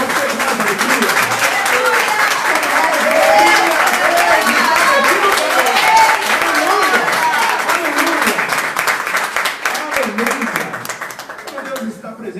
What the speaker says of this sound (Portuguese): Você pode aplaudir ao Senhor com alegria?